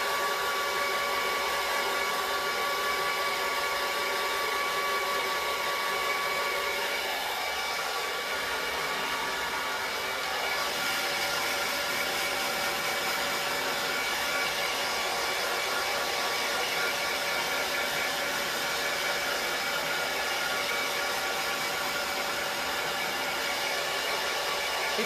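A hair dryer blows steadily and loudly against the hair while styling for lift at the root, a continuous close airflow roar with a slight shift in tone partway through, no talking.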